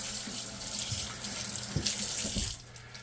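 Steady rush of a kitchen tap running over utensils being rinsed during a mock decontamination, with soft knocks and clinks of metal tools under the stream, close and continuous without speech.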